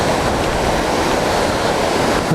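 Water rushes at Malad Gorge as a loud, steady roar with no breaks, heard close and without any voices.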